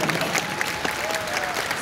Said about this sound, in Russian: Заслужили аплодисменты.